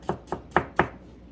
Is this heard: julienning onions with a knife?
yes